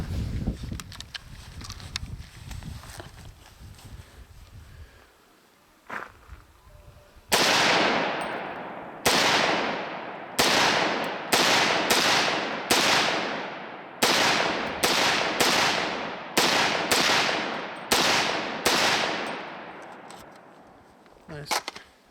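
A custom-built .300 Blackout AR-15 pistol fitted with a second-gen Sharps Rifle Company bolt carrier group fires about a dozen loud, sharp shots in a steady series, each followed by a decaying echo, after several seconds of quieter outdoor sound.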